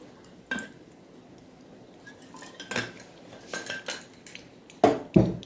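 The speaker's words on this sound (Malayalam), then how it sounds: "ഇരുമ്പിൻ്റെ ചീനച്ചട്ടിയാണ് ഉപയോഗിച്ചിരിക്കുന്നത്" An iron kadai is handled while cooking with coconut oil for a beef dish, giving sporadic metallic scrapes and clanks close by, ending with two sharper, louder knocks.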